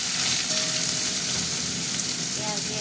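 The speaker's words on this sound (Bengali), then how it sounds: "পেঁয়াজ দিয়ে দিলাম।" Chopped onions sizzle in hot oil with spices in a pan while a vegetable chorchori is cooked without water; a steady, close, loud frying hiss runs throughout with faint stirring.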